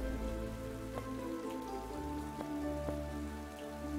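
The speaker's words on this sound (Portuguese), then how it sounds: "Tá chovendo, velho!" Rain falling in the video game Mask of Mists, a soft continuous patter over a low steady hum with a few brief clinking drops, quiet and uninterrupted.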